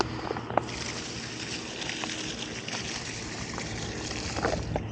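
Water is poured onto a young tamarind sapling outdoors, a continuous close splashing and trickling over soil that holds steady for the whole few seconds, with no talk.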